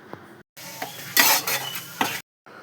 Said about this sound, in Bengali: বারবার মেশাতে হবে কারণ এতে কাজু বাদাম দেওয়া আছে, এতে যাতে লেগে না যায়।